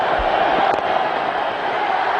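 Stadium crowd at a cricket match in Ahmedabad roaring in elation, a broad steady wall of cheering with a brief thump near the start, no voices distinct above the noise.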